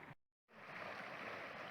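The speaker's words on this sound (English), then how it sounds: "we got two creeks that join together and it's running like crazy right now" A swollen mountain creek where two streams join, rushing hard after runoff, making a steady loud broadband roar of flowing water close by, briefly cut out near the start before resuming continuously.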